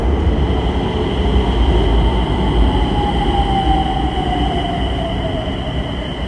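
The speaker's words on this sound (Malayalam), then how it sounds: "നാഗ്പൂർ മെട്രോ ഇതാ കടന്നു വരികയാണ്." A Nagpur Metro train pulls into a station at evening rush hour, a loud steady rumble of wheels with a long, gliding squeal as it slows, and no voices.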